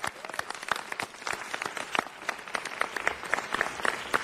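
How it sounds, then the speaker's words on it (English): A crowd at a city council meeting claps for police investigators, a dense, steady patter of many hands that stays moderately loud for the whole stretch with no talk over it. "So a round of applause for all of them."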